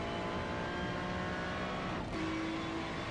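GT race cars pass at high revs, a sustained engine drone with one car sweeping by mid-clip, heard from trackside at moderate distance.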